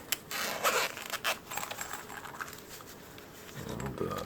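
A zipper pouch from a VG Pocket Tablet starter bundle is handled up close, giving a few quick, soft zip rasps and rustles, then quieter fumbling.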